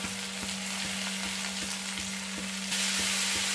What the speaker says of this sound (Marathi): टोमॅटो टाकून घेते. ते सगळं परतून लाल करून घ्यायचंय.